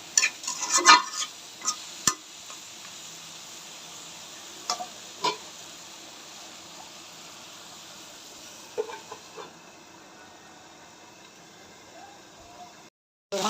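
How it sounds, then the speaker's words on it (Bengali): Meat sautéed (kosha) in a pan for biryani gives a steady, moderate sizzle, with a few sharp spoon scrapes and clinks early on. It ends with a brief silence and an abrupt restart. "মাংসটা আমি ভালো করে কষিয়ে নিব।"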